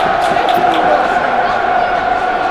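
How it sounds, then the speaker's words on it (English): Football crowd at Millwall's Den stadium, a loud, steady wash of applause and crowd noise filling the ground, broad and continuous with no single voice standing out. "All around, the applause all around the Den for that."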